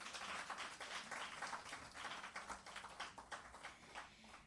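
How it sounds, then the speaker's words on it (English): Audience applause at a launch event and public lecture, a faint, dense patter of clapping hands sustained for several seconds. "Please give him another round of applause."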